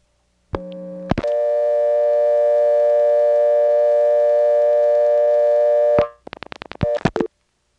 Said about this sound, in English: you actually can hear the outpulsing